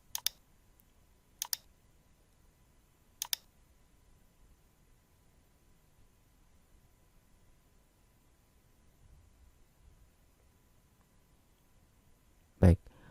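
A computer mouse clicks sharply while quiz answers are selected online, three quick clicks in the first few seconds, then quiet, then one louder thump near the end.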